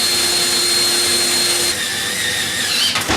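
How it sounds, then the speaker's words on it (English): A power drill whines steadily up close, then shifts pitch as it bites in, ending with a short burst of strain and rattling. "Just gonna drill right into here."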